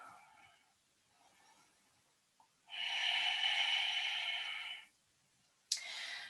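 Slow audible breaths held during a seated yoga twist: a faint exhale, a long loud steady inhale lasting about two seconds, then a sharp start of another breath, close and quiet otherwise.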